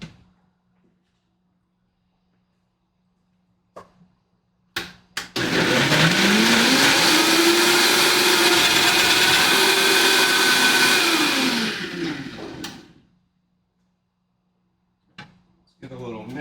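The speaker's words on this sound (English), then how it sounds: "This blender is gonna blow out the sound" A kitchen blender mixing salsa runs loud and close for about eight seconds, starting with a sharp whir and winding down at the end, with short clunks before and after.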